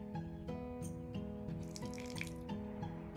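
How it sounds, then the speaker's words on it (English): Water poured slowly from a cup onto a potted plant, a faint steady trickle with small splashes and drips over a constant background hum, no voices. "I have a cup, and I will pour a little bit of water to my plant"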